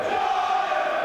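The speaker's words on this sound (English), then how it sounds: "Crowd going wild behind us." Crowd going wild at an amateur fight night bout, a steady, dense roar of cheering and shouting that holds at an even level throughout without letting up.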